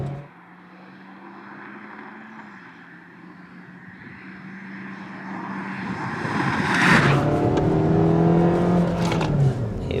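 A Suzuki Swift Sport's 1.4 engine hums steadily while driving on an open road, then swells into a louder, rising rev as the car accelerates hard near the end.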